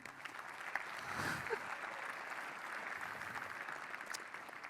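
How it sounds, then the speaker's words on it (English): Faint, distant applause from a conference audience, a steady patter of clapping that swells briefly and then continues evenly. "you should probably give him applause"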